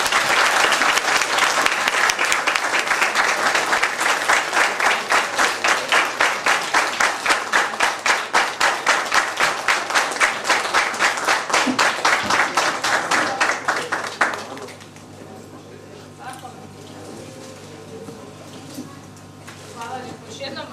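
An audience at a Bunjevac carnival evening gives sustained, dense, rhythmic applause, loud and full for about fourteen seconds before dying away to quieter room noise and a few scattered claps.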